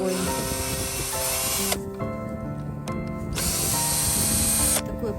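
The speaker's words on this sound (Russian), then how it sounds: "мы решили проделать дырочку в этом деревянном приспособлении" A power drill whirs in sustained bursts, briefly pausing between runs, loud and close, with a gritty grinding edge as it bores a hole through a wooden mallet.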